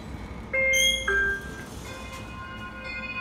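A Schindler 3300XL elevator in a downtown parking garage sounds a few clear, bright chime tones in quick succession, then leaves sustained ringing tones fading over a quiet background hum.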